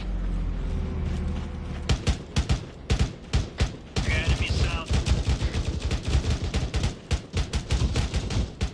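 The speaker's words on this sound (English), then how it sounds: "Shots fired towards the south." Gunshots ring out in close, loud bursts of automatic fire mixed with single cracks. The fire grows denser and more continuous in the second half, with voices talking underneath.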